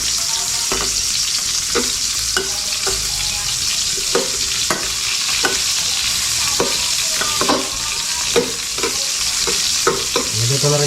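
Onions sizzle steadily in a hot frying pan while a utensil scrapes and stirs them in repeated sharp strokes, close up and loud, with no talking.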